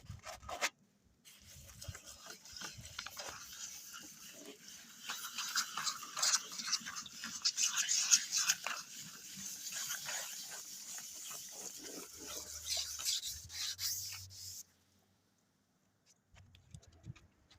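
Hand sanding a hazy car headlight with worn sandpaper: quiet, rapid scratchy rubbing strokes that continue steadily for most of the stretch, then stop abruptly.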